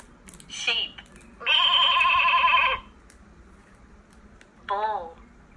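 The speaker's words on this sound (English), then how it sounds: "Sheep." A sheep bleats in a few wavering calls, one long quavering bleat in the middle flanked by shorter ones, close and clear.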